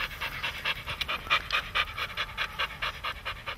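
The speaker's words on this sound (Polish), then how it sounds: "ma około 5-6 lat, jest zdrowym psem" A medium-sized shelter dog, about five or six years old and limping on one hind leg, pants in quick, even bursts close to the microphone, steady throughout with no talking.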